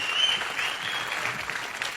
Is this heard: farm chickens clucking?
no